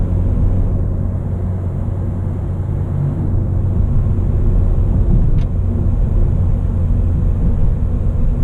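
Inside a 2017 Honda Civic Si with its 1.5-liter, 205-horsepower engine, a steady low engine and road drone hums without a break, with no voices over it.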